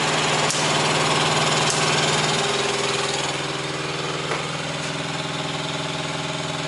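A truck engine idles steadily in a repair shop, a loud, even mechanical drone with a regular low throb, running alone throughout without talk.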